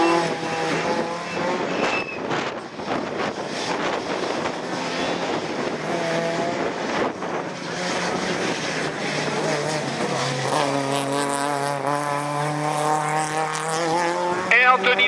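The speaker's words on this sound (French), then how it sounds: "La toute nouvelle auto de Nicolas Botorel" A brand-new, unbranded Division 4 rallycross car being run in at Lessay, its engine droning loudly and steadily with rising and falling revs throughout, a shift in pitch near the end, and crowd noise underneath.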